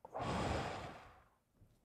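A single deep breath, one long close exhale that swells quickly and fades over about a second, followed by a faint short intake, alone with no talking.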